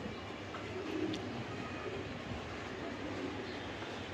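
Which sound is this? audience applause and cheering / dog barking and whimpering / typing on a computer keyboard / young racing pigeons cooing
young racing pigeons cooing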